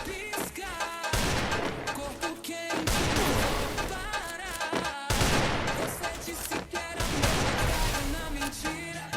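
Loud, near-continuous gunfire from Free Fire, the mobile battle-royale game, in dense rapid bursts and volleys that fill the whole stretch with only brief pauses between strings of shots.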